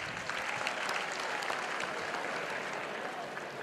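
Applause from a seminar audience at a best paper presentation event, a steady, fairly quiet wash of clapping that holds evenly throughout, heard from a distance.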